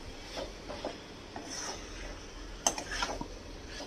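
Cluster beans (guar phali) are stirred in a pan, producing soft, quiet scraping and rubbing strokes with a faint sizzle and an occasional light knock of the utensil.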